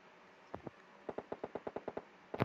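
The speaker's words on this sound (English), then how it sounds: "Bullet shots fired." Rapid string of gunshots from a PUBG match on the snowy Vikendi map: two early cracks, then a steady burst of about eight evenly spaced shots and a final louder pair, moderately close and with no talk.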